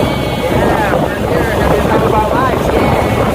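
A boat engine drones steadily with a low rumble in El Nido, Palawan, mixed with rushing wind against the microphone and voices talking over it.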